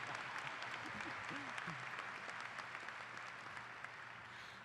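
An audience at a 2018 high school graduation ceremony claps together, a faint, distant, steady patter of applause filling the hall, with a voice heard briefly at the start.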